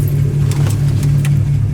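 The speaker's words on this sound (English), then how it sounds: "You can hear the car running." A 1964 Dodge Polara 500 engine runs steadily with a deep, constant low rumble, close and fairly loud, with no talking.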